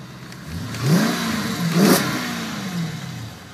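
A 2010 Chrysler 300S engine revs hard twice, its loud exhaust rising and falling in pitch, then settles back toward a rumbling idle.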